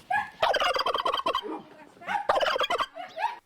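A turkey gobbles loudly and close by, two rapid rattling bursts of gobbling calls followed by a softer, shorter call.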